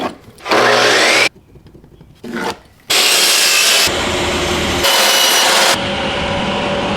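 Hand sawing through wood to cut a rabbet joint, with bursts of rasping strokes broken by short pauses, close and loud.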